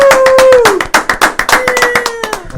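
A small group clapping and cheering for a guest on a podcast, a burst of uneven claps with whoops and voices on top, close and loud.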